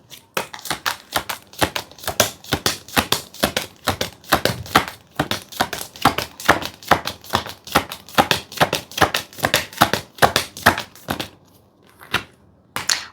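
Tarot cards are drawn one after another from a deck in quick, steady rhythm, each pull a crisp close snap of card stock, continuing for several seconds before pausing near the end.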